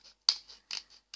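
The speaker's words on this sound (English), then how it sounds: "with a pair of scissors" Scissors snip through kitchen paper roll to cut out a paper Halloween bat, giving four short, crisp cuts spaced apart and heard up close with no talking.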